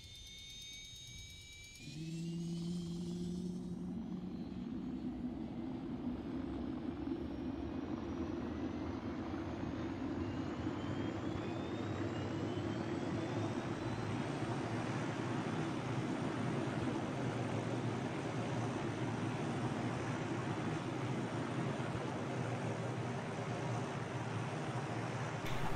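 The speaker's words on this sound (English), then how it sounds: "I could start the helicopter by using engine on, but as I've got a HOTAS, I'll just turn it on and let it come up." A helicopter's turbine engine starts up in a flight simulator game: a brief high whine, then a loud, steady, rising turbine roar that holds for over twenty seconds with no talking.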